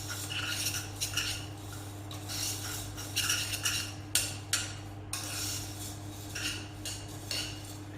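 A spoon scrapes and clinks against a bowl while oats are stirred into liquid, producing repeated irregular metallic taps and scrapes over a steady low hum, with no talking.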